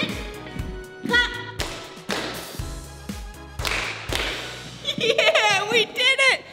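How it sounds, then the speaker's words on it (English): Hand claps and slapping beats ring out in a rhythmic pattern during a kids' dance routine, mixed with an upbeat music track and bright, cheering voices near the end. "Clap."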